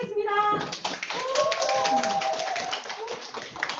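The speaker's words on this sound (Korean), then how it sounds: "김현숙 사장님을 큰 박수로 모시겠습니다." Applause and clapping greet a company president taking the stage at a corporate vision event, dense claps under an announcer's fading voice and musical tones, fairly loud throughout.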